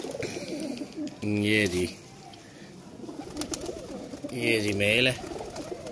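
Kasoori pigeons, including a male, coo in low rolling bursts close by while someone talks over and between them.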